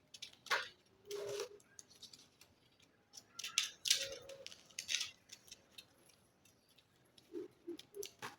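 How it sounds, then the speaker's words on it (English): Scissors cut fabric for a bustier bust dart, giving short crisp snips in scattered bursts with quiet pauses between them, close up and fairly faint. "So I've cut out the bust dart."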